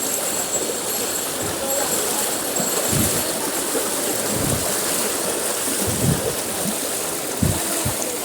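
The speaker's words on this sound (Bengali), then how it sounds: "পানি কি স্রোত দেখতে পাচ্ছেন।" Strong water current flows near a gate, a dense steady rushing noise with low surges and splashes, people faintly present in the background.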